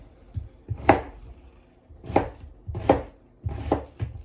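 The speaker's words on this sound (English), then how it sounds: "So, how do you chop your onions the same way?" A sharp knife chops onions on a cutting board in several close, crisp thuds, some in quick pairs, with short pauses between strokes.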